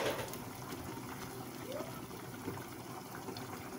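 Tap water running into a pot of rice in a home kitchen, a faint steady gushing stream that continues evenly throughout without pause.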